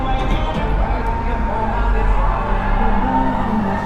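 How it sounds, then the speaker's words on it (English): Dense crowd murmur on a New York City street at night as a Broadway show lets out, a steady wash of many voices and footsteps close around. "Everybody, check out this massive crowd of people."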